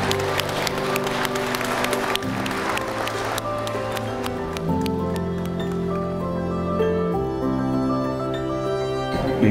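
Wedding guests in downtown Rochester, New York applaud just after the vows, steady clapping mixed with loud sustained music throughout, a dense crowd sound filling the whole stretch.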